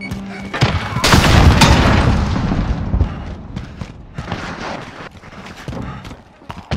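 A grenade explodes in Call of Duty: Modern Warfare with a loud, close boom that rolls on for a couple of seconds, then trails into scattered gunfire and battlefield clatter.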